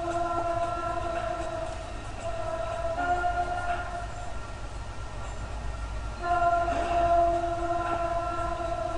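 A train rushes past in Sunnyvale, California, a steady loud rumble with tonal whine that swells again toward the end, heard without speech.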